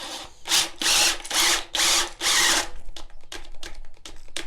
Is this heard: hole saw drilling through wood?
yes